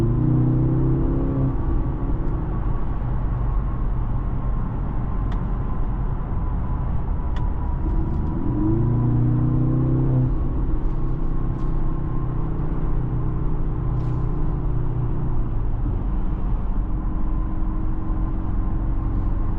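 Inside a moving 2024 Mercedes-AMG GLC 43, its four-cylinder engine, partly synthesized through the cabin, gives a steady droning rumble with several rising pitch sweeps as it accelerates and shifts gears.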